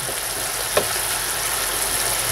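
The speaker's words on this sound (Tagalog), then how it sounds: "kailangan prito ng maigi yung ating isda." Fish sizzles steadily as it fries in hot oil, a constant crackling hiss with one brief utensil tap partway through.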